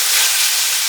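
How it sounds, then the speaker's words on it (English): Lamb browning in a pan for a homemade soup, giving a steady, close, even sizzle with broad frying hiss and no break for the whole second, with no voices over it. "I'm literally just browning the lamb"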